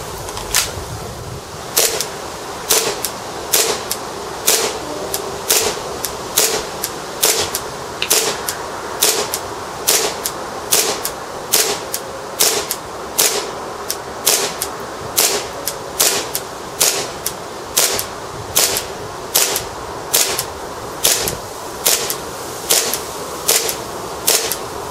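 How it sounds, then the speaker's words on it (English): A Tokyo Marui Series 70 nickel-finish airsoft pistol fires a long string of about 35 single shots in warm autumn weather, each crisp snap close and evenly spaced at a slow, steady pace. "So we'll see how many shots we can actually get out of this at a slow, medium-ish rate of fire"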